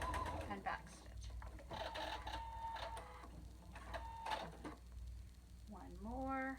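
A sewing machine runs in short bursts, stitching straight down a folded dart in mask fabric for a batwing mask and reversing to backstitch, with talk over the machine and a few tonal squeaks near the end.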